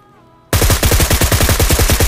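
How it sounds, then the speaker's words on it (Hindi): Rapid automatic gunfire from an M416 rifle in BGMI, bursting in abruptly after a quiet moment and continuing as a loud, fast, evenly spaced stream of shots to the end. "फायर देता हूँ इनको ताकि मैं इनको अपनी तरफ अट्रैक्ट कर सकूँ"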